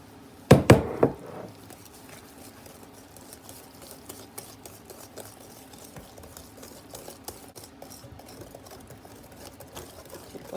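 A whisk works sugar into wet sweet potato quick bread batter in a bowl, opening with a few loud clattering knocks, then settling into a long run of light, rapid, faint tapping and scraping.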